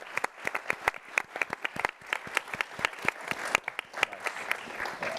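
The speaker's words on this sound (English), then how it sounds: "let me please conclude with a round of applause" Conference audience applauding after a talk at a money markets conference, many close, sharp handclaps in a quick irregular patter that continues for several seconds without speech.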